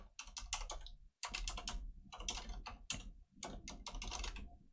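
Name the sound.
typing a command on a computer keyboard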